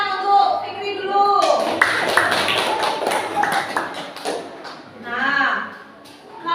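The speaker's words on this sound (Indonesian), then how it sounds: "Tepuk tangan untuk Fikri dulu" Brief classroom clapping for a student in an elementary school lesson, a short burst of claps mixed with children's voices and room noise.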